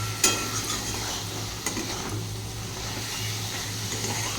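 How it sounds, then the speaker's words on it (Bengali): Elephant foot yam stems and prawns with spices being stir-fried in a pan, a soft continuous sizzle with a couple of sharp utensil knocks against the pan near the start and middle. "এবার এটাই ভাজা ভাজা করে নেবো।"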